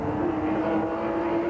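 Volkswagen Vento VR6 race cars in a tight track battle, a sustained loud droning engine note holding a steady pitch as they pass, with no talk over it.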